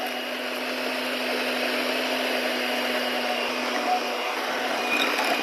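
An electric mixer beats cookie dough at a lower speed, a steady, even motor whir with a faint hum that runs throughout without pause.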